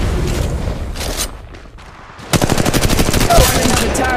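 Gunfire in Apex Legends Mobile: scattered shots and a short lull, then a loud, steady stream of rapid automatic fire with evenly spaced reports, close and forceful.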